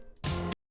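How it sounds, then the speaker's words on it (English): A single short, bright pop snare drum sample hit with a roomy, processed burst that cuts off cleanly, heard alone. "it had a snare in it that sounds like this."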